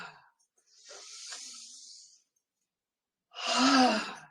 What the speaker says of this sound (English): let out the breath, release